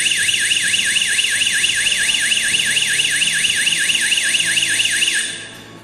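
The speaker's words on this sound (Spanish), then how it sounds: "se activa la alarma. Deberá sonar por 10 segundos y se apaga." A wireless Arduino motion sensor alarm wails in a fast, steady up-and-down siren pattern, loud and continuous for about five seconds before cutting off abruptly.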